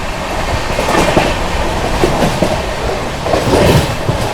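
Mahabodhi Express, the 12398 New Delhi–Gaya train, running at speed near Etawah Junction: a steady loud rumble with rhythmic clickety-clack of wheels over rail joints throughout, no voices.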